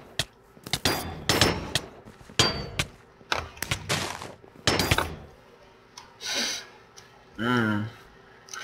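Gunfire bursts of napalm shots in a shooter video game: a run of loud, sharp impulsive blasts in quick clusters, followed by a few softer whooshing sounds near the end.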